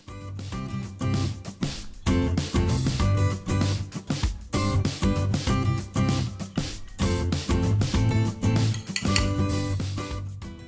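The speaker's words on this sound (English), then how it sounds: "Now transfer your homemade tahini sauce to a bowl." Homemade tahini sauce gets scraped and spooned into a bowl, with a dense run of clinking utensils and knocking dishes, loud and close, almost nonstop with brief pauses.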